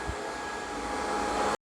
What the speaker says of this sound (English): I'm quite surprised that the vacuum went inside.